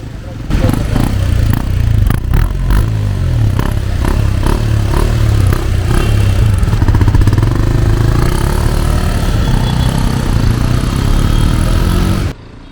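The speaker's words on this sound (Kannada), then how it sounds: "ಗಾಡಿ ಎಕ್ಸಾಸ್ಟ್ ನೋಟ್ ಮಾತ್ರ ಸಕ್ಕತ್ತಾಗಿ ಕೊಟ್ಟಿದ್ದಾರೆ, ಕೇಳಿಸ್ಕೊಳ್ಳಿ ಹೆಂಗೇನೆ" A Hero Xpulse 210 motorcycle runs up close with a steady, loud exhaust note that rises and falls as the throttle is worked, continuing for about twelve seconds before cutting off abruptly.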